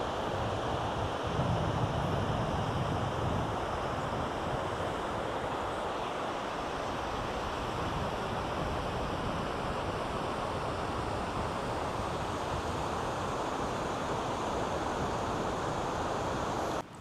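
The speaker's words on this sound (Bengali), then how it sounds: "আর এই দেখুন এই যে সমুদ্র" Sea waves at Bakkhali beach make a constant broad wash of surf, mixed with wind buffeting the microphone, steady and unbroken throughout without speech.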